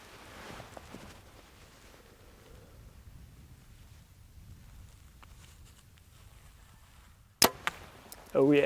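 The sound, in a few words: arrows shot from a Mathews Lift X 29.5 bow flying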